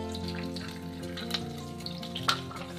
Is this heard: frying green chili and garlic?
yes